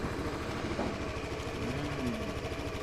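Motorcycle engine said to run on gas made from water, idling with a steady low rumbling chug throughout, close and moderately quiet, with no voices.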